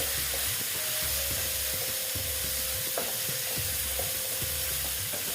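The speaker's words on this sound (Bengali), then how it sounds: "দিয়ে ডালটাও একটু সেটা থেকে কষিয়ে নিচ্ছি" Lentils being sautéed in a pan for a vegetarian bottle gourd dish, a steady loud sizzle and hiss running throughout, with a spatula scraping the pan in a regular, repeated rhythm.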